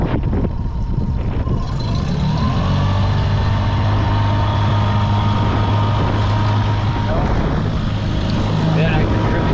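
A Honda outboard motor on a 2016 Hewescraft 200 Pro V boat fires up and runs steadily, a loud continuous engine drone with a low hum throughout, and someone talking over it.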